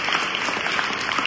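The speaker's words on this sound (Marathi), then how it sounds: "त्या सगळ्यांच्यासाठी एकदा तुम्ही टाळ्या वाजवल्या पाहिजे" A crowd at a Buddhist gathering claps in a brief, dense burst of applause.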